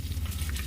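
Curry leaves, dried red chillies, green chillies, chana dal and other lentils fry in hot oil for coriander rice, giving a steady, close, even sizzle with no talking.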